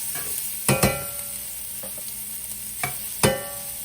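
Lobster frying in a hot pan over lowered heat gives a steady sizzle throughout, with a few sharp clattering scrapes and stirring knocks near the start and again toward the end.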